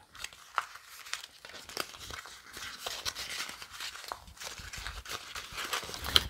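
Crisp crinkling and crumpling of a sheet of stiff cardstock, irregular bursts of crackles up close, building in intensity toward the end.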